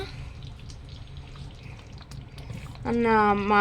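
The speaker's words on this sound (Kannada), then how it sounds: "ಇವಾಗ ನೀರು ಹಾಕೋಣ" Masala water is poured into a pot of chicken sambar, giving a soft, steady pouring and splashing wash up close. A voice or tonal sound rises over it near the end.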